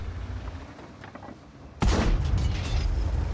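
A T-54 tank's main gun fires in a tank battle game with a single sudden loud boom that cuts through quieter engine rumble and leaves a sustained heavy roar afterward.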